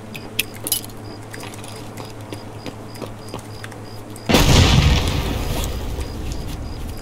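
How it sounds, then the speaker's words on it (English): A grenade explodes in Escape from Tarkov after quiet movement and small clinks, a sudden loud close-range blast followed by a long, decaying rumble and debris wash. "I'm gonna toss a grenade in."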